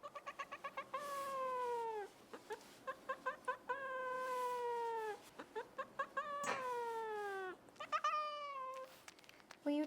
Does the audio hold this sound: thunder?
no